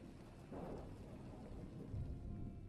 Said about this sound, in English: The storm was violent, but it only lasted for a few more minutes.